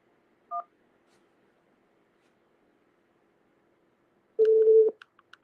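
Telephone keypad tones as a key is pressed to accept an incoming call-in line: one short two-tone beep near the start, then after a pause a louder, longer tone burst followed by a few brief beeps, with no talking.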